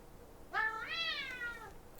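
A single drawn-out cat meow, rising then falling, clear and fairly close against a quiet room, from a cat recovering on antibiotics.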